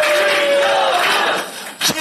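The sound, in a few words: crowd applauding and cheering at election campaign office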